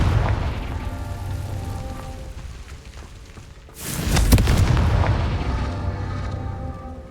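Confringo spell explosion in the Hogwarts Legacy video game, a sudden loud blast with a crackling burst that decays into a low rumble over game ambience.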